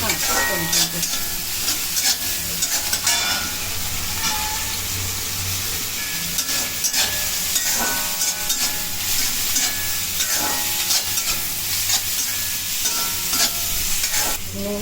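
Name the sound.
ginger-garlic paste and tomato frying in pan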